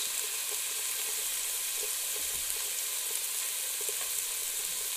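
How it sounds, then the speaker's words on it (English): Tomato paste fries in a pot for a low-carb red cabbage curry, giving a steady, dense hiss and sizzle that holds at an even level throughout, close and alone. "Next goes in about 2 tablespoons of tomato paste."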